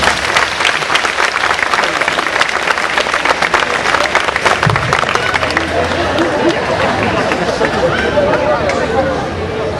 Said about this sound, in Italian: Un applauso a Pietro.